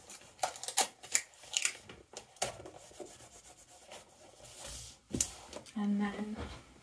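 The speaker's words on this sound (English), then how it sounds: "And then we'll just tape that." Packing tape pulled and pressed onto a parcel while packing eBay orders: scattered short rips and rubbing strokes, close and fairly quiet, ending in a longer tearing stretch.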